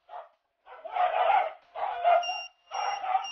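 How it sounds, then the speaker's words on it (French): A pet dog barks in several loud, close bursts separated by short pauses, with a faint high electronic beep from an anti-bark training collar sounding during the later barks. "Quand votre chien aboie"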